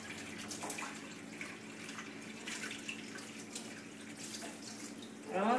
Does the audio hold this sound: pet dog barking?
no